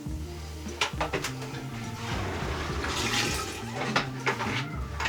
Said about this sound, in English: Fill it up with some more water and then flush it on down.